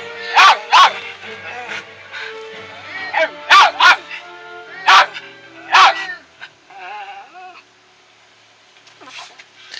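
A dog whines in high, drawn-out cries, broken by a few short sharp yelps, fairly close and loud.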